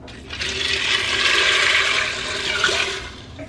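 Water gushes steadily into an Instant Pot pressure cooker for macaroni, a loud continuous rushing pour lasting several seconds with no talk over it.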